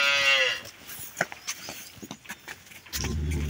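A Holstein Friesian cow lets out one long, fairly close moo that fades out in the first half second. Faint thuds and shuffles follow, then a low engine-like rumble comes in near the end.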